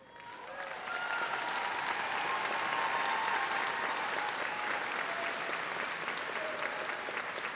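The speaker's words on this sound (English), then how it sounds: "Let's give another big round of applause for these students." Sustained applause from a large audience at a 2019 Western Hills High School graduation ceremony, honoring the graduating students; clapping swells after a second and holds steady, dense and even.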